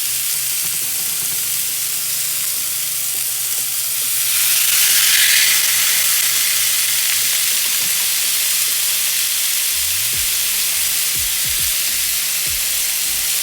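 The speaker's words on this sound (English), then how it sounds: "And that's what you should hear when those chops hit the pan." Loud, steady sizzling of pork chops frying in a hot pan, a broad hiss that swells briefly as the chops hit the oil, with faint clinks underneath.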